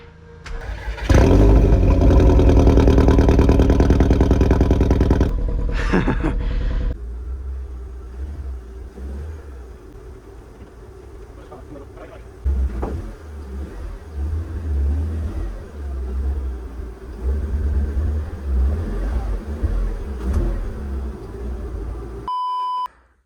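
A Volkswagen Scirocco R project car cranks and starts, its engine roaring loud and close for a few seconds before settling into a steadier idle, with a brief electronic beep near the end.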